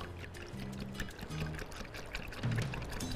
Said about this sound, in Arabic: مع اللبن الدافي، كده هنحط الزيت